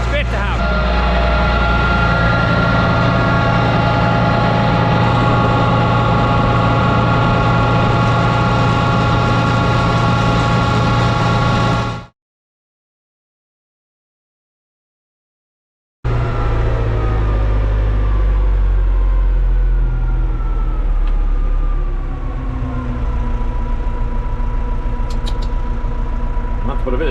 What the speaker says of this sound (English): I can have this tractor mixing while we're still slurrying away.